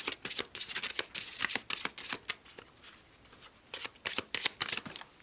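Affirmation cards are shuffled by hand in quick, crisp riffling bursts, close and fairly quiet, with brief pauses between runs.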